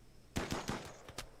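A quick burst of video-game gunfire, about five fairly faint shots in rapid succession over roughly a second.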